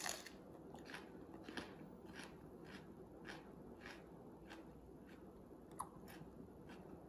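Quiet, close crunching bites into a raw, seedless Aji Guyana pepper, crisp and juicy, a series of sharp chewing crunches at a steady pace with no talking.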